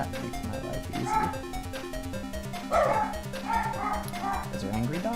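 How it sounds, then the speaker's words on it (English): Several dogs barking and yipping angrily, repeated sharp barks and whimpers over a steady background tone, at moderate volume with a voice speaking at points. "Those are angry dogs."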